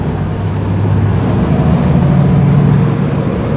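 A car engine hums steadily in fifth gear, a constant low drone with road and cabin noise, heard from inside the moving vehicle without pause or change in pitch.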